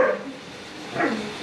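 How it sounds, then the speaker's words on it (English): A dog in a home garage gives a couple of short, nearby barks, one at the start and another about a second later, fairly loud with a quiet gap between. "my dog is blowing up"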